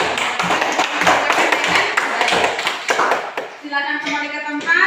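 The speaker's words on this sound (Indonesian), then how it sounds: "Sekarang ayo berikan tepuk tangan untuk kelompoknya April." Primary-school pupils in an Indonesian classroom clap for a group, a dense burst of quick hand claps for about three seconds that then gives way to voices.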